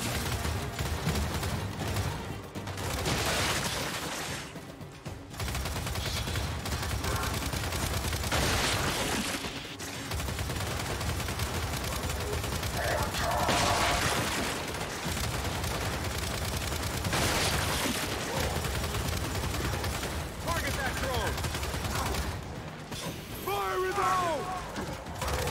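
Rapid bursts of gunfire from the video game Glitch of War 5, played on insane difficulty, dense and continuous over a busy mix with talk running beneath.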